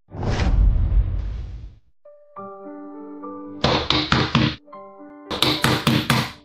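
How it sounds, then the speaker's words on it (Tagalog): Knocking on a house door, given as two quick bursts of about four sharp raps each, loud and close, following a broad whoosh and separated by sustained musical tones. "Sino ba yung katok ng katok dyan?"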